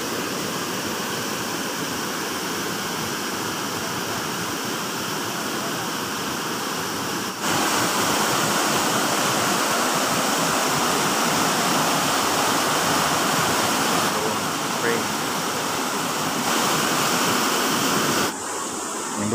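Spring water at Danikop Spring in Luon, flowing steadily in a loud, dense, continuous rush of broadband water noise that swells slightly partway through, with no voices.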